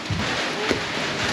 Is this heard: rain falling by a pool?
yes